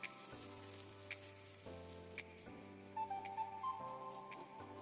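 Chopped chicken sautéing with vegetables in a pan for a spring roll filling, a steady soft sizzle with occasional stirring clinks under sustained musical tones.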